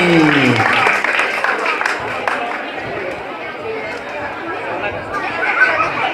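Applause and crowd chatter at a village performance for an Independence Day celebration in a Balinese customary village, a steady mix of clapping and hubbub throughout.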